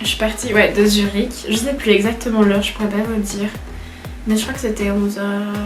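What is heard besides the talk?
No everyday noise stands out behind the speech.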